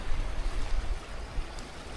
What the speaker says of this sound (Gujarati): ગીરની નદી છે ભાઈ